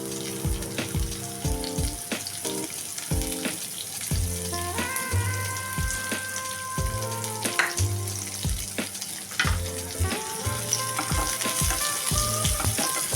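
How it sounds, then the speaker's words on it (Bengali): Chopped onion frying in oil after black cumin seeds, a steady close sizzle with occasional stirring clatter and utensil taps throughout, no talking. "খুব ভালো করে পেঁয়াজটা ভেজে নিতে হবে, একটু ব্রাউন করে।"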